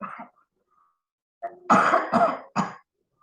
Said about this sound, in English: Why I coughing so much?